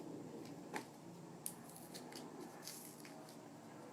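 Scissors cut up the middle of a pill blister pack with a few faint crisp snips and crinkles of plastic over a quiet room hiss, heard up close and without talk.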